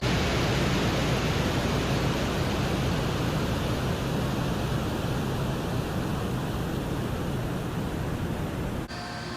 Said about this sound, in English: This is actually what the planet Venus sounds like, recorded by Venera 7 in 1970.